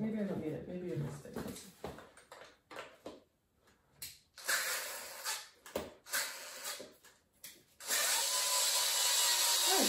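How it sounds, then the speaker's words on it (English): A power drill drives screws into a roller skate plate for a custom Vans build, with short bursts of whirring and ratcheting separated by pauses and handling noise, ending in a longer sustained run. "let's see if I can use this drill"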